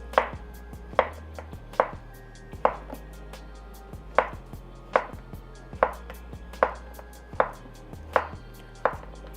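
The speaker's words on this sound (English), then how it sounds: "then we're going to cut this in half and then just slice it" A knife slices vegetables into half-inch pieces on a cutting board, striking with about a dozen crisp, evenly spaced chops, close and clear with no voices.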